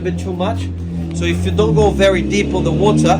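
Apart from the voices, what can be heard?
car passing by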